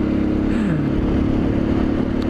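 A motorcycle engine with a rattling fault, running steadily and close by: a loud continuous rumble full of clattering buzz and slight pitch wobble, with no talking.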